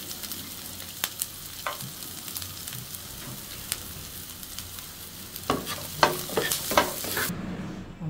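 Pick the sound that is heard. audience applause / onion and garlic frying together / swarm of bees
onion and garlic frying together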